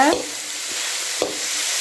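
Steady sizzling of chopped vegetables for corn rava upma in a hot pan, with a couple of brief scraping stirs, no voices.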